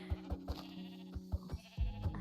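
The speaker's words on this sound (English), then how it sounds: "More sheep." Sheep in Minecraft give short, quavering bleats, several in a row over steady background music, close and moderately loud.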